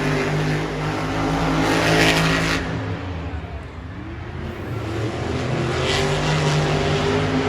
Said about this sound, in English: have some green beasts now on the track for racing as Morgan Kane will take on Nick Pagliarulo.